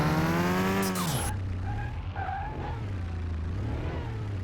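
A car in the Car Mechanic Simulator 2021 video game revs with a rising engine tone, then skids on a test track, leaving a steady low engine drone with faint tire squeals, no talking.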